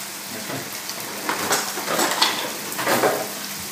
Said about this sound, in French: On va prendre donc nos pains et les mettre à griller sur une plaque de cuisson à viande.